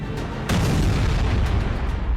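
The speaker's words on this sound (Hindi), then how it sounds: "तेहरान पर बम बरस रहे हैं" Bomb explosions striking Tehran, a deep rumbling boom that swells and holds as a loud, sustained low roar with a few sharper bursts on top, heard without voices.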